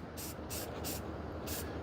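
A can of black spray paint hisses in four short, sharp bursts over a steady background hum while coating 3D printed terrain.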